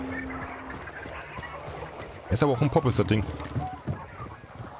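Fowl honk and quack in a rapid burst in the video game Hunt: Showdown, close by and fairly loud amid background game noise, with someone talking over it.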